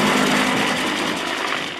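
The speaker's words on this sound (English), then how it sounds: "Here's North Carolina's very own P-51 Mustang, the Swamp Fox, taxiing out for departure on runway 5." A P-51 Mustang warbird taxiing out for departure at an airshow, its piston engine giving a loud, steady, rough throbbing drone for the full short stretch.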